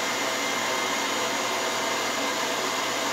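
Steady, even hair dryer airflow blowing on a decoupage tin to open up its crackle finish, a broadband whoosh with no pauses or voices.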